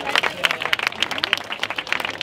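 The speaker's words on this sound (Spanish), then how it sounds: "Un aplauso." Scattered clapping from a small crowd at a subscriber outfit battle event, a brief ripple of claps with chatter mixed in.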